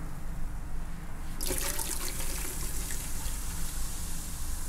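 Eight ounces of Coca-Cola pours into a pot for homemade teriyaki sauce, a sudden steady splashing stream that starts partway through and continues under a constant background hum.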